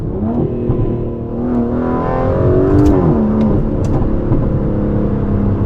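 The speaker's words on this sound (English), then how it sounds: "When it shifts from one gear to the next, it's got that little interesting little gurgly burbly thing" An Aston Martin DB11 V12 engine hums up close, its pitch rising and then dropping with a brief, burbling dual-clutch gear shift before steadily climbing again.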